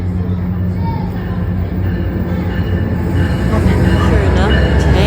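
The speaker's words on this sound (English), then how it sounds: "here comes the next train." Washington Metro train arriving at a station on the line to King Street, Alexandria, with a rising rumble of wheels on rails and faint squeals growing closer and louder.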